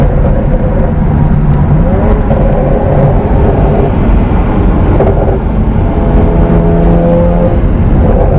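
BMW 335i with custom exhaust and downpipes downshifting, a steady mid-pitched engine drone with shifting tones as revs change, heard from inside the car with no talk.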